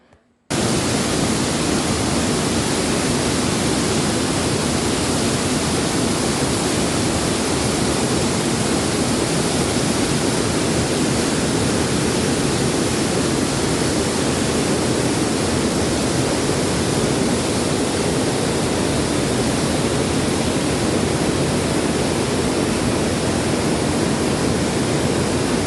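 A waterfall at Savegre in San Gerardo de Dota, Costa Rica, roars in a loud, steady, unbroken rush of falling water for the whole stretch, with no voices.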